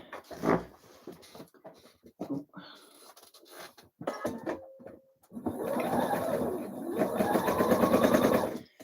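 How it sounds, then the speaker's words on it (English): A domestic sewing machine runs gathering stitches along the bottom of a blouse sleeve, a rapid, even mechanical whir lasting several seconds after scattered handling noises and brief quiet talk. "now we need to put some gathering stitches in the bottom of the sleeve"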